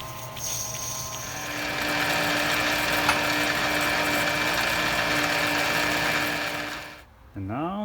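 A threading tool cutting threads onto a new propeller shaft for a 1939 Larson utility boat, a steady loud whirring, grinding mechanical drone running for about seven seconds before cutting off, followed by a brief rising whine.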